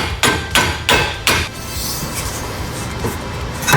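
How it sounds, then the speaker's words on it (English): Four sharp hammer blows in a steady rhythm, then a quieter stretch of faint tapping and scraping, with one more knock near the end. "so I'm gonna try to hammer it"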